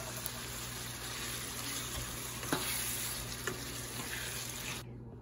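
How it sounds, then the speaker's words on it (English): Ground beef and diced tomato cook in a pan with a soft, even sizzle, occasional faint clinks of a utensil, and no voices, until it cuts off near the end. "I've decided to go ahead and add the diced tomato to the ground beef."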